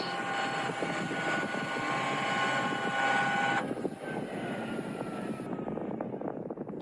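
F-16 Aggressor fighter jet engine running on the ground, a steady roar with a high whine that drops away partway through as the engine winds down, fairly distant.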